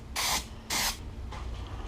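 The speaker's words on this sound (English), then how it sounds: "So I'm spraying in this area." A can of spray paint hisses over Christmas yard art in two short, strong bursts followed by a fainter third puff, close and alone.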